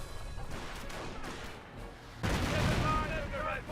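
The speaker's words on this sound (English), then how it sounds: "Mortar hit there onto his Panzer Grenadiers." A mortar shell strikes Panzer Grenadier infantry in the Company of Heroes strategy game, a sudden loud explosive crash midway amid scattered gunfire and battle noise, with someone talking over the action.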